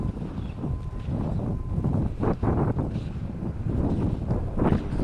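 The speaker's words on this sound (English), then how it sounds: "Feels about 70, I would say, because it is breezy." Breezy wind on a humid outdoor walk buffets the microphone, a steady low rumbling roar with gusty swells throughout.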